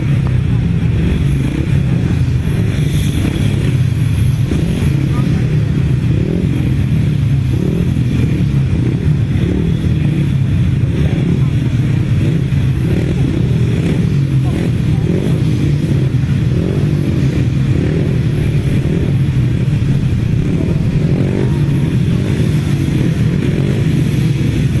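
A pack of 350cc grasstrack racing motorcycles at a championship meeting, engines roaring loud and continuous with rough, pulsing revs and clattering across the whole stretch, a voice faintly mixed in underneath.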